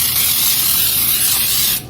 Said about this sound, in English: I'm going to spray my cake pans with, and this is Baker's Joy